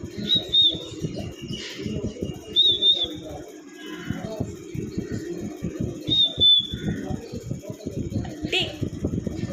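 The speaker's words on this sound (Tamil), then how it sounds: "பட்டு விசில் அடிக்காட்டுறான்." A pet parrot at home in Chennai gives three short, high whistles a few seconds apart, clear above a steady stream of people talking nearby.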